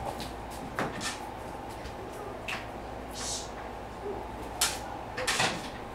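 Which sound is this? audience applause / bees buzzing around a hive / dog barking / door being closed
door being closed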